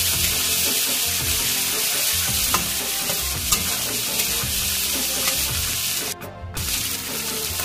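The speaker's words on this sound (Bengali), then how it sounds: "রসুনটাও আমি একটু হালকা ভাজা করে নেব।" Garlic and shrimp fry lightly together in a pan, with a continuous loud sizzle under repeated stirring scrapes and clinks and a brief dip in the hiss near the end.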